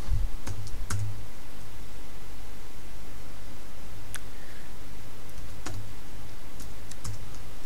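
Typing a chmod command on a computer keyboard, scattered close key clicks over a steady low hum and hiss, with occasional sharper key taps.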